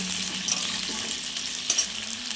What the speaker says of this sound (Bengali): এখন আমি ভালো করে আলুটা ভেজে তুলব।